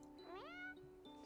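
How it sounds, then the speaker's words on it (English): A cat meows in the Purrfect Date video game, one clear rising-and-falling meow over a steady faint electronic hum, soft and alone without talk. "let the sounds of the yowling cats sing me to sleep"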